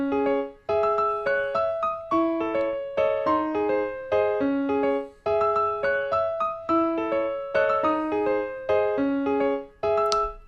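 A melody programmed in FL Studio with every note at the same velocity plays as a bright synth line at an even, harsh loudness, with the phrase repeating twice and no speech.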